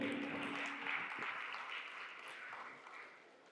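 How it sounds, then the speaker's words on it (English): Applause from an audience fills the space as steady clapping, fairly distant, gradually tapering off toward the end. "Can we have a huge round of applause for them?"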